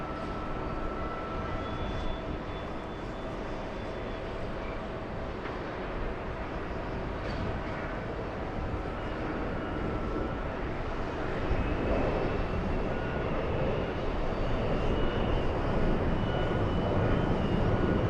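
A jet airliner at Kennedy airport (JFK) rolls for takeoff, a steady, broad engine roar that holds throughout and swells slightly louder toward the end, heard from a distance with no voices.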